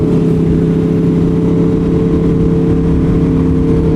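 Aprilia Tuono V4 1100 Factory motorcycle with its first mods accelerating under a quick shifter, a steady loud engine drone with strong, even tones held throughout without any talking.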